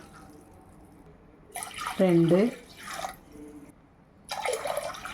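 Tumblers of water poured into a pressure cooker for cooking white sorghum, splashing in short bursts with gaps between them, as someone speaks briefly over the pouring.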